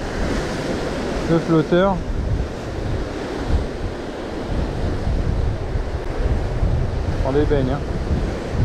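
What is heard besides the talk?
sea waves breaking on rocky coast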